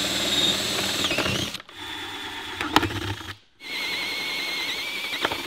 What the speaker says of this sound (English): I don't think I've done that cheap ass drill any good.